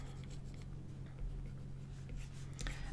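A stylus sketches lightly on a tablet screen in Procreate, a faint, soft scratchy patter of short strokes against quiet background hiss.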